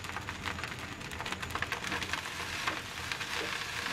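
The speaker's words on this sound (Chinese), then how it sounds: "最后加入多一些的小葱花进去翻炒" Egg fried rice with a generous handful of chopped scallions is stir-fried in a hot wok, a steady crackling sizzle with scattered scraping and tossing ticks, close and continuous without speech.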